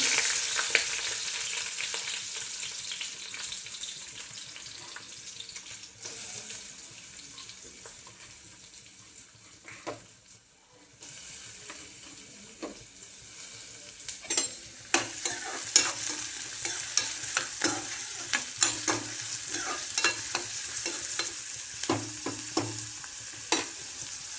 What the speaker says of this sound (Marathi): कांदा छान भाजायचा.